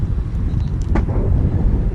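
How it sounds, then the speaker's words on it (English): Strong wind gusting across an outdoor high school boys' soccer field, a loud, continuous low buffeting roar with no break. "And no doubt you can hear the wind. The wind is really picking up now."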